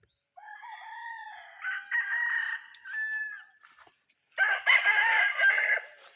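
Several roosters crow in turn, including Asil, Kelso and other gamefowl, drawn-out calls overlapping near and farther off, with quiet pauses between.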